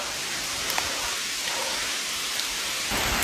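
Heavy rain falls on a narrow mountain path beside cliffs, a dense continuous hiss of drops on surfaces, loud and steady, with a few sharper close drips.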